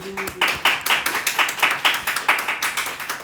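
A run of about a dozen quick, close hand claps in a steady rhythm during a physics lecture on electromagnetic induction, with no talking over them.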